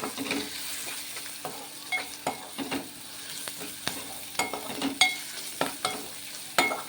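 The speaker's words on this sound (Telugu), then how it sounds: "ఇది కొంచెం అల్లం వెల్లుల్లిపాయ కూడా నూనెలో వేగనిద్దాం" Ginger and garlic frying in oil for a dried-fish tomato curry, with a crackling sizzle broken by frequent clicking stirs of a spoon in the pan, close and fairly loud.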